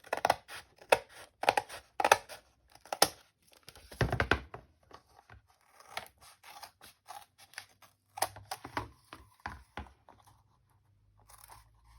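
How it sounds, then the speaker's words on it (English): Scissors or a blade cutting through the spine of a Little Golden Book, heard as a close series of crisp crunching snips and creaks in uneven bursts, with quieter handling and rustling between cuts. "So let's just go ahead and cut it."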